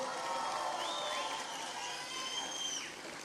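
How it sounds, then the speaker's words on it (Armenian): A festival audience in Gegharkunik province applauds loudly and steadily, a dense wash of clapping mixed with cheers and whistles that stays at an even level throughout. "եկեք Գեղարքունիքի մարզին բարձր ծափեր"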